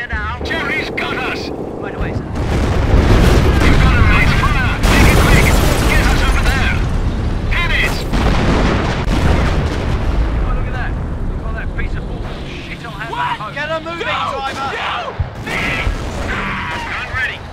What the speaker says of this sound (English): Enemy barrage!